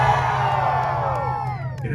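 A crowd at an outdoor rev battle car meet cheering and whooping loudly to vote, a sustained dense roar of many voices, close and continuous throughout.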